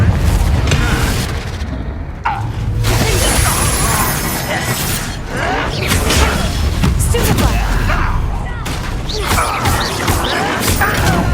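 A Confringo fire spell in Hogwarts Legacy erupts in heavy, booming blasts and crashing impacts over dense, continuous game noise, with a voice speaking through it.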